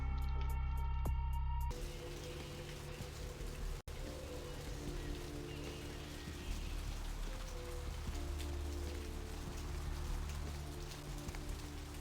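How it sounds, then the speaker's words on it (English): Steady rainfall on surfaces in Vampire the Masquerade Bloodlines, a continuous even hiss throughout, with a humming tone at the start that cuts off early. "This rain is the pungent sewage of hell, seeping into the cracks of this putrid purgatory."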